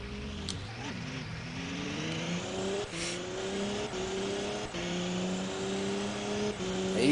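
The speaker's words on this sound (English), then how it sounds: "you see how fast this car gets up to speed" An Audi race car in the Assetto Corsa racing game accelerates hard, its engine climbing steadily through a run of gear shifts with brief dips between them, loud and continuous throughout.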